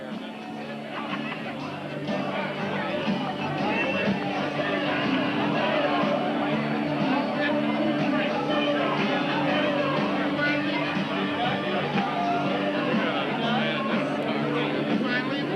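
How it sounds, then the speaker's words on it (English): Dense crowd chatter fills a room at a 20-year high school reunion, many overlapping voices and laughter forming a steady, loud babble throughout, with nearby talk on top. "Let's walk through the crowd here."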